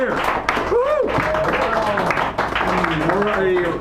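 Audience applause and cheering after a poem at a poetry hour in a San Francisco café, a dense burst of clapping mixed with whoops and a host's voice talking over it.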